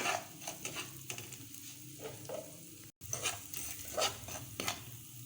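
Spices are stirred into browned garlic frying in a pan for a chicken shawarma, with a steady sizzle under repeated scraping strokes of a spoon against the pan.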